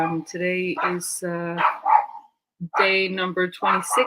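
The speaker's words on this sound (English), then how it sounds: "I'm sorry about the dogs outside." Dogs bark outdoors in short bursts around and between a man's speech, most noticeable in the pauses, fairly close and moderately loud.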